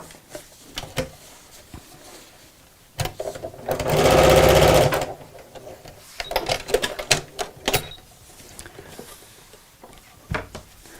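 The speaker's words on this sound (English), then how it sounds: "just make a little row of stitches really close to the edge just to hold the ends of the pocket in place" A domestic sewing machine runs a short burst of stitching close to the edge of fabric, a steady mechanical whir lasting about two seconds, surrounded by close handling clicks, rustles and taps before and after.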